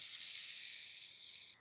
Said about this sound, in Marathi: फोडणी झाली, चटणीवर होतो.